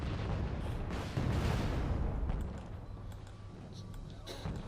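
Artillery fire in the Wargame Red Dragon battlefield comes as a dense, rumbling barrage of booms that swells and then fades into scattered distant blasts and pops.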